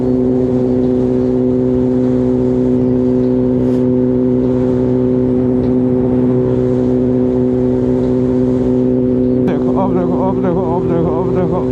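A Kawasaki ZX-10R sport motorcycle holds a loud, steady engine drone while riding at speed on an Indian highway, with a voice briefly audible near the end.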